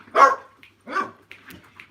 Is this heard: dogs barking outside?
yes